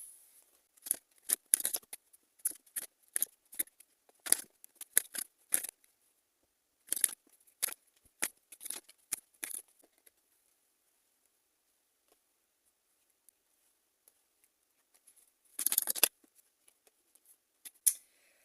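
Tarot cards are shuffled and drawn in close, crisp bursts of snapping, riffling clicks. A quiet pause follows, then a short final flurry, with no voices.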